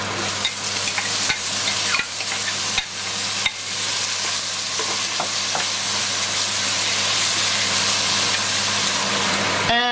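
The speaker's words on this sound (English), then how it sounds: "And next we're gonna add the shrimp." Shrimp sizzle and fry in a pot with vegetable stock, a steady loud crackle running throughout with a few sharp scraping knocks from the stirring utensil.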